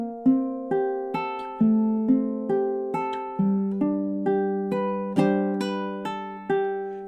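Fingerstyle ukulele phrase in a gentle ballad style, about a dozen clear plucked chords and single notes ringing out in an even rhythm, played close and alone.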